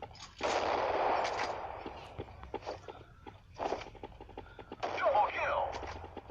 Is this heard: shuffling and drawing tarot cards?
no